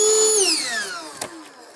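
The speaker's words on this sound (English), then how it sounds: "Okay, enough with the air compressor." A motorized compressor whine slides steadily downward in pitch as it winds down, with a brief faint knock near the end.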